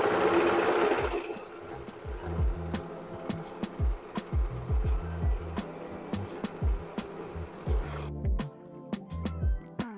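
An overlocker (serger) stitches fabric in short, close, whirring bursts separated by brief pauses, fairly loud, with no one talking.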